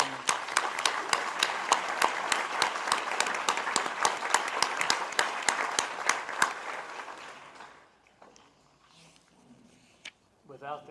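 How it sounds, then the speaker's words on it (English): Applause at a local government luncheon for a standing administrative team: a dense, steady round of clapping from a seated crowd for about seven seconds, then fading out into quiet room murmur and a brief voice. "let's give them a round of applause"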